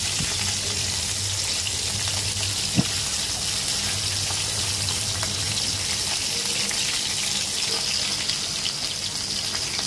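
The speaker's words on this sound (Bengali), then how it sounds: "কই মাছগুলো কড়া করে ভেজে নিব, উল্টে পাল্টে দিয়ে ভালো করে ভেজে নিব।" Koi fish fry in hot oil, a continuous dense crackling sizzle that stays even and close throughout, with no one talking.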